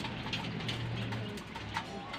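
Pigeons cooing in a loft as the birds return home, low soft coos repeating over a steady background of rustling and bird activity, close by.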